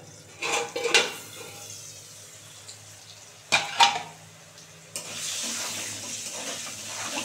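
Metal clatters as a pot lid is lifted and set down over frying potatoes, two bursts of clanking, followed by a steady sizzling hiss.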